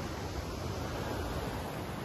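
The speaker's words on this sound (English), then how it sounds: "Oh, waterfall! There's a waterfall right above us." A mountain waterfall in rugged backcountry wilderness gives a steady, broad hiss of rushing water, even and unbroken, with no voices.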